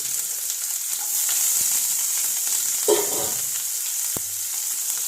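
Onion fries in oil in a hot pan for a Kerala breakfast of chapati and dal curry, giving a steady close sizzle with a brief stirring clatter in the middle and a sharp tap near the end.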